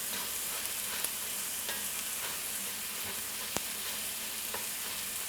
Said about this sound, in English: it's all about sauteing and frying.